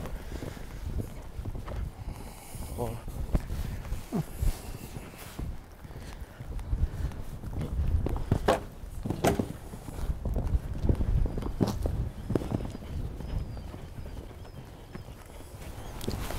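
A horse's hooves clip-clop steadily on the ground during show jumping training, fairly faint against a soft outdoor background, with occasional louder thuds.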